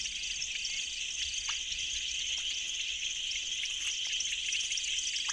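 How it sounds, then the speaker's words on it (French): Dense chorus of small frogs calling from grassy vegetation, a steady shrill high-pitched trilling that never lets up, with a few brief chirps rising above it and no talk. "chez les grenouilles, elles essaient toutes de chanter plus fort que les autres"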